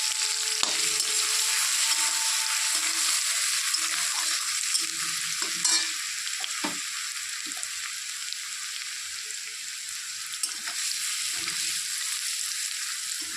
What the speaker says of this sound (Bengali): রসুনটাকে একটু লাল লাল করে ভেজে নেব।